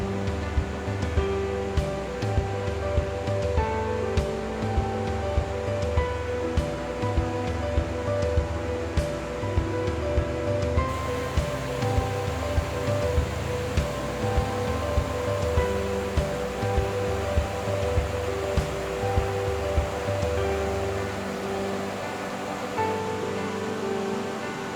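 Twin Falls waterfall on a forest hiking trail near Rattlesnake Lake pours in a steady, dense, full-bodied roar of rushing water, close and unbroken throughout, with no voices.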